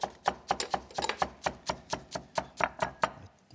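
A chef's knife chops ingredients on a cutting board in a Chinese home-cooking kitchen, about fifteen crisp, evenly spaced strikes in a quick steady rhythm, heard up close with no talk over them.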